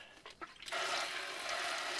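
Water hisses steadily from an Aquabot pump-up water sprayer after a few brief clicks, a continuous faint spray flowing without a break.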